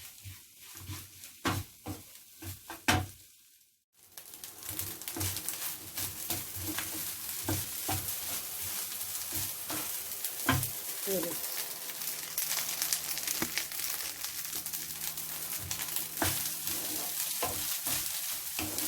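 Egg fried rice sizzling and frying in a pan, with stirring scrapes, a brief pause, then steady loud crackling throughout, close up and with some talking over it.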